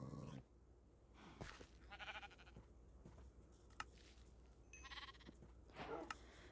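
Minecraft sheep bleating in a few short separate calls spread across the clip, over a steady low game background hum with faint clicks.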